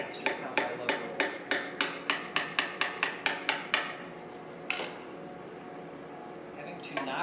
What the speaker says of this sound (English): Having to knock the veins free with a hammer is generally not good.